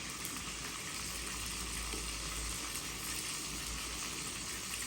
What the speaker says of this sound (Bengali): এই যে বলক আসছে